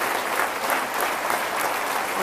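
A large crowd of about 700 fills a basketball gym in Charnay for a tribute, clapping in a steady, dense wall of applause that holds evenly throughout.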